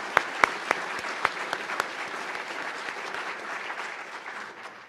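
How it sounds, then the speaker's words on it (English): Audience applause for prize winners at an awards ceremony: dense clapping from a crowd, a few sharp close claps standing out at the start, then steady and gradually thinning toward the end. "So, final round of applause for the Casarelli Prize winners."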